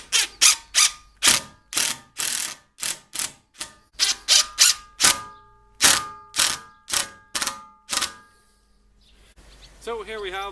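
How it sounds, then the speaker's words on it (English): Screws being driven into a repaired wooden shovel handle, about twenty loud, rapid clicking bursts from a hand tool in an uneven rhythm, close up, followed by a pause and a voice speaking at the end. "But just to hold it in place, I'm going to add 2 screws."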